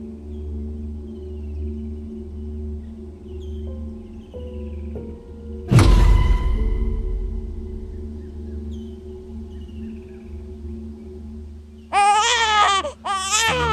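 A baby cries as a sound effect in a Thai ghost story narration, with wailing bursts near the end following a sudden heavy thump and a low droning ambience.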